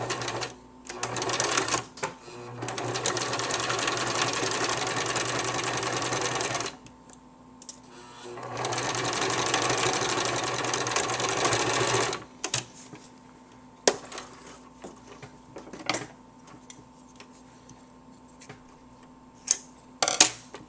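A sewing machine runs a regular-length straight stitch on stretchy shirring fabric in two long, steady bursts of rapid needle clatter. Quieter clicks and handling sounds follow.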